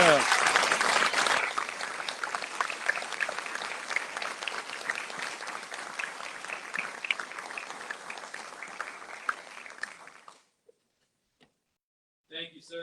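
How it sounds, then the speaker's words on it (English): Sustained applause from the audience at a Navy retirement ceremony for a Chief Petty Officer, steady dense clapping for about ten seconds that then stops abruptly, with a short voice after a pause. "Ladies and gentlemen, please join me in a round of applause for Chief Petty Officer"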